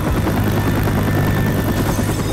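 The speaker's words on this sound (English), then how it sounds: "do you not hear the helicopter?" Loud, steady helicopter rotor thrum and engine buzz from the video game Left 4 Dead 2, filling the whole stretch without any talk.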